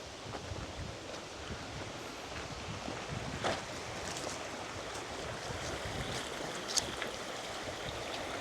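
A river stream flows steadily at a campsite, a continuous broadband wash of water that stays even throughout, with a few faint brief knocks and occasional wind buffeting on the microphone.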